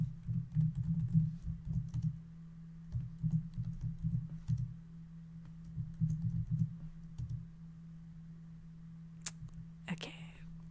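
Quick bursts of typing on a computer keyboard come in several clustered runs separated by pauses, close and fairly soft, with a low steady hum underneath and a few sharper clicks near the end.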